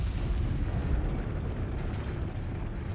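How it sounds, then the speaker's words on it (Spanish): A game explosion from Resident Evil 4 lets out a deep, sustained rumbling blast with heavy low-end roar that stays loud and dense throughout, with no talk over it. "Y ahora gritemos todos Michael Bay, porque esto va a volar."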